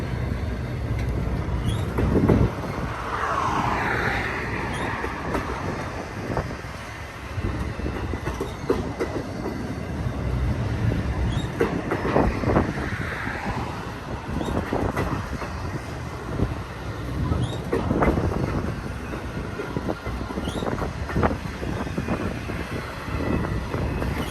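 Two very long freight trains pass each other in a steady, dense rumble of rolling cars with repeated clickety-clack wheel beats, unbroken throughout and with no talking.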